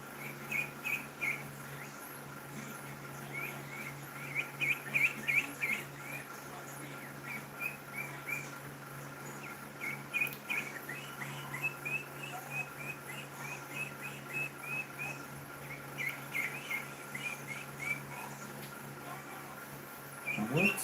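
Three-week-old ducklings in a garage give soft, high peeping chirps in scattered bursts, faint and somewhat distant against a quiet, hum-filled background.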